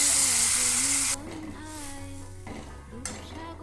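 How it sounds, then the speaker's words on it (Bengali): Water splashes onto hot fried spice paste for a Bata fish curry, setting off a loud burst of sizzling that subsides after about a second into a quieter bubbling, with utensil clinks and a voice talking. "এইবার আমি একটু বেশি পরিমাণে মশলাটার মধ্যে জল দেবো"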